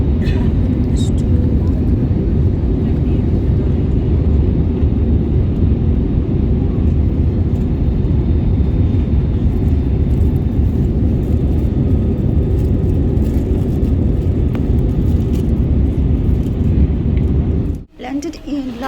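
Inside a passenger airplane landing at Larnaca Airport, Cyprus, a loud steady low roar of engines and rolling fills the cabin for most of the stretch, then cuts off abruptly near the end.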